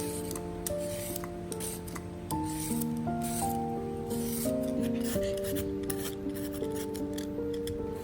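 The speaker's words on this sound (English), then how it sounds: "Next, scrape off the thin outer skin." Carrots have their thin outer skin scraped off, producing rhythmic rasping strokes close by, layered under steady tonal background music, with no voices.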